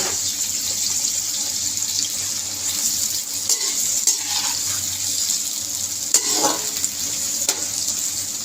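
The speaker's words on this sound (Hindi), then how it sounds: "इसमें मैं डालने लगी हूँ प्याज" Onions sizzling and frying steadily in leftover oil in a pan, a continuous close hiss with occasional stirring scrapes and a few water-like splashes.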